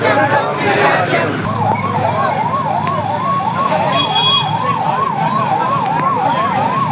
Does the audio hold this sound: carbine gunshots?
no